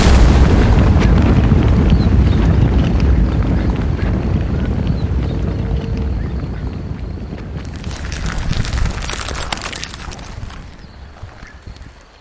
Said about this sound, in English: A loud explosion thunders throughout the woods as the entrance to the mine collapses.